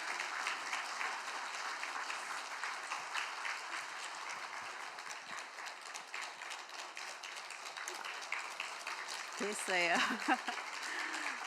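A church congregation keeps up steady, dense applause to welcome a missionary, with many hands clapping together in a continuous wash. A voice speaks briefly near the end as the clapping carries on.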